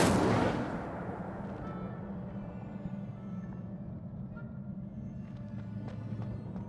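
A fire spell is cast in the Hogwarts Legacy video game: a sharp burst of flame at the start, then a steady low roar and crackle that carries on at a moderate level with no voices.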